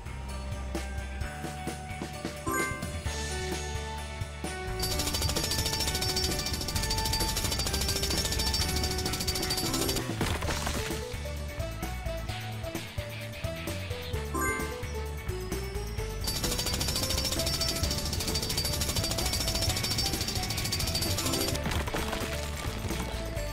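Rubble's drill clearing the path in the PAW Patrol Mighty Pups video game, a loud continuous jackhammer-like rattle that comes in bursts over background game music.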